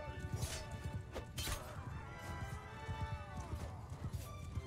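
Horse hooves clip-clopping in a medieval battle video game, a steady rapid galloping rhythm of thuds close by, mixed with clashes and crowd noise of fighting.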